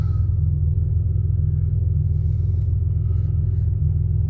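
A turbocharged Buick Grand National engine, long abandoned and being revived, idles steadily up close, a deep continuous rumble with a faint throb and no change in pitch.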